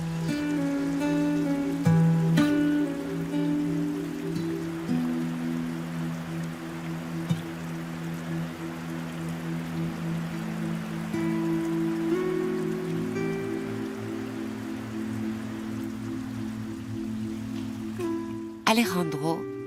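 Steady rain falls at Estancia Santa Cecilia in Argentina, a constant close patter running the whole time beneath a low droning hum, with a brief louder knock near the end.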